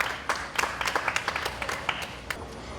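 Scattered clapping from a small audience at an alpaca show at the Carroll County 4-H & FFA Fair, a thin patter of individual claps rather than a roaring ovation, moderately distant and fairly quiet.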